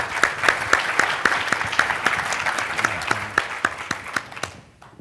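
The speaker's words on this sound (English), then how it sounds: "let's give them a round of applause." An audience at a live speaking session applauds, with steady rhythmic clapping from a modest crowd that holds for several seconds before fading out.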